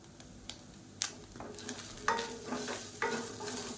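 Kozhukattai being stirred in a pan with salt and asafoetida: a run of scraping stirs and soft sizzling, with sharper spoon knocks against the pan at a steady pace, close and fairly quiet, no voices.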